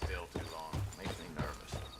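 Horse hooves clop steadily as a small group of riders passes in Red Dead Redemption 2. The quiet hoofbeats sit under a talking voice.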